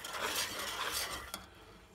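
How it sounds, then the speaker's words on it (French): A whisk beats almonds into a thickened mixture in a pot just off the heat, a brisk swishing rasp with light metallic scraping that ends in a sharp tap. "On y met les amandes. Et on fouette."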